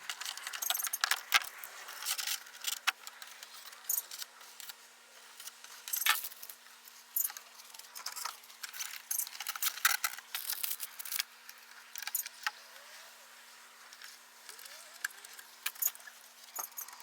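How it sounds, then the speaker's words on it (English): Zip ties are ratcheted tight while a fan is mounted inside a homemade quiet generator box. Quick, crisp plastic clicks come in irregular bursts, close and fairly soft, with no talking. "So let's go ahead and start putting the zip ties."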